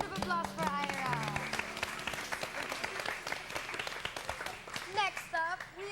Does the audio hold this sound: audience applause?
yes